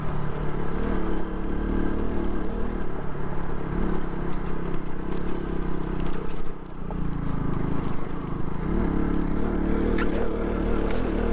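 A motorcycle strains uphill on snowy off-road terrain at Changla Pass in Ladakh, losing power in third and fourth gear; a loud, steady engine drone runs throughout with no talking.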